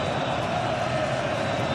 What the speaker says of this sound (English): And the crowd really finding their voice here.